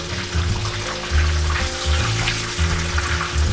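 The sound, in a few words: chicken cutlet frying in a pan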